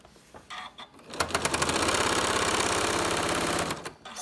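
Sewing machine running a line of top stitching, a rapid steady mechanical chatter close by that starts after a brief pause and runs for about two and a half seconds before stopping.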